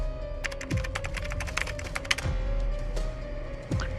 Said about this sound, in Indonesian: Dia mulai mengetik